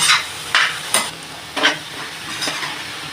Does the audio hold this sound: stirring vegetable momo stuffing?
yes